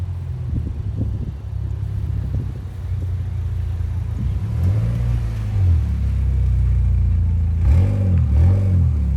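A 2018 Honda Accord with a factory manual transmission idles with a low rumble, then revs up in rising and falling sweeps toward the end, close by and loud, with faint voices in the background.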